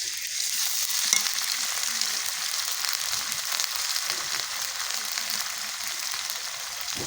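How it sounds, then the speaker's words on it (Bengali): Cumin, garlic and ginger paste frying in a hot pan, a loud steady hiss and sizzle throughout with faint stirring scrapes, no voices. "এটা এখন দিয়ে দিব আমি জিরা রসুন আদা পেস্ট"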